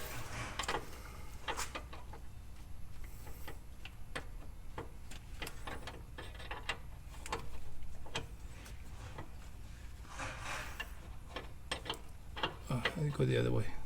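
Ratchet wrench tightening the high-pressure power steering hose fitting on a 2007 Honda Odyssey, a series of sharp metallic clicks at an uneven pace close by, with working noise around them and no speech.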